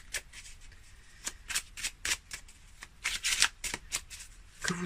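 Tarot cards shuffled by hand in a series of quick, crisp riffling bursts with short pauses between them, close and fairly quiet, with no talking.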